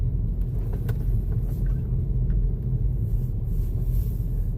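Car on the road close by, a steady low rumble of engine and tires that holds throughout with no voices.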